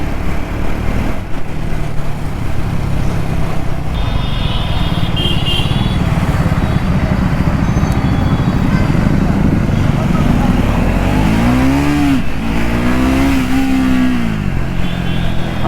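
A Triumph Speed 400 motorcycle engine runs while riding, a loud, steady mid-pitched drone with wind rush and a pitch sweep as the rider accelerates, with a voice talking over it.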